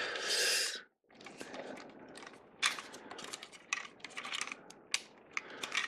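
A Transformers Power of the Primes Rodimus Prime toy is transformed by hand, with a brief rasping scrape followed by a close, quiet run of plastic clicks, ratchety snaps and small knocks.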